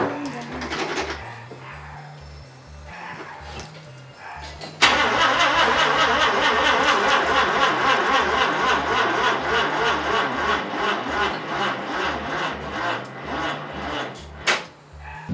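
A 1983 Mazda RX-7 engine cranks with a rhythmic starter whir, then catches and runs loudly with a steady, pulsing idle, a voice briefly audible near the start.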